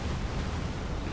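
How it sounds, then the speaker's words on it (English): An explosion attack lands during the Godfrey boss fight in Elden Ring, a brief, low, rumbling blast with a thick noisy tail that fills the short moment at moderate loudness, with no speech. "There's the explosion one"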